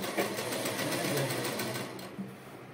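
Sewing machine stitching a churidar neckline, a steady rapid mechanical whir of needle strokes that runs continuously, fairly close, then slows and eases off near the end.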